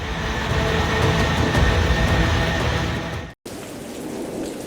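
Heavy rain pours steadily with thunder rumbling through it, a loud, dense roar during a flooding downpour in Gujarat, with a brief cut before the downpour continues slightly quieter.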